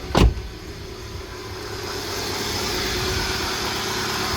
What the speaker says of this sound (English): So what I'll do is I'll now start the vehicle on. So now the vehicle is running.